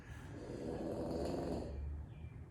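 Soft, steady snoring of a small dog close by, a low rumbling breath that swells and fades over a couple of seconds in a quiet room.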